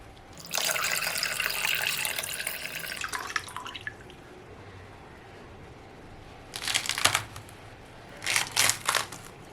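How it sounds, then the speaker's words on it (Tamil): Water from a freshly cut red tender coconut pours out in a steady, close splashing stream for a few seconds, followed after a pause by a few light taps and trickling splashes. "இப்போ இதை வெட்டி நம்ம இளநீரெல்லாம் தனியா எடுத்துக்கலாம்"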